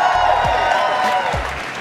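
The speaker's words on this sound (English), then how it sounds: "Give them a big round of applause." A dense, steady wash of audience applause and cheering fills a room as parents in the crowd are recognized, loud and close throughout with no gaps.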